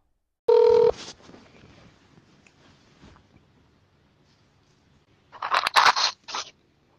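A phone call placed on a telephone: a short burst of dialing tones opens, then a quiet stretch, followed by a louder ringing burst near the end, with no talking.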